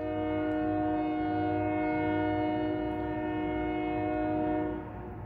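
A train horn sounds in a long, sustained blast over the deep rumble of rail cars rolling past, fading slightly at the end.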